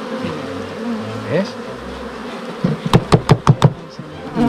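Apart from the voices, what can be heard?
honeybees buzzing at an opened hive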